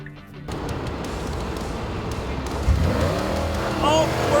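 Tesla Model S P85D launching in insane acceleration mode in a drag race against a Porsche Panamera Turbo S, a steady rising electric motor whine and road rush with someone talking over it.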